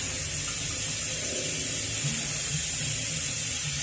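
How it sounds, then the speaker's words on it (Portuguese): Water runs from a tap in a steady, even hiss that holds at one level for a few seconds, heard close and alone with no talking. "Eu acho que quando eu ligo a água aqui da torneira vai parar aí."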